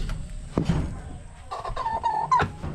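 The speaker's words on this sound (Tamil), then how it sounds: "இங்கே ஒரு கோழி அடை வச்சுருக்குறோம்" A brooding hen sitting on a clutch of about ten eggs clucks close by in short, uneven bursts, with a drawn-out, tonal call near the end over a low background rumble.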